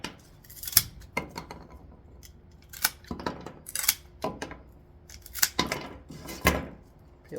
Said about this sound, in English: Now I'm going to cut the stems so that they're all the same length.